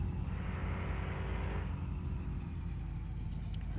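A car driving in the Mon Bazou video game, set in Quebec, makes a steady, low engine drone that stays loud and even throughout with no breaks.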